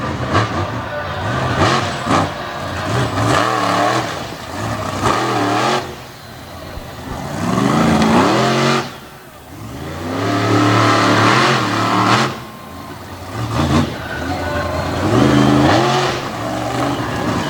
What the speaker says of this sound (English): Brandon Darrow out of Elkton, Virginia gets ready to put the foot to it